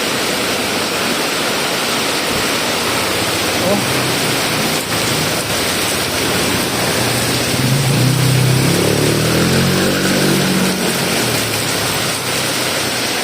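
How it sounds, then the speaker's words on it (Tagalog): Torrential rain from Super Typhoon Yagi pounds down in Macau, a constant loud roar of water, with a vehicle engine rumbling past midway and a brief spoken exclamation. "ang lakas ng ulan"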